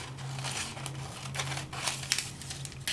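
A sheet of red Deco Foil crinkles and rustles in close handling, in several short bursts over a faint steady hum, with no talking.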